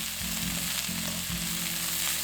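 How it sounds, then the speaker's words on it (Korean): Cabbage, onion and carrot stir-fried in a pan for a home side dish, a steady loud sizzle with a few low scraping strokes of the spatula, no voices. "양파, 당근도 넣고 볶아줍니다."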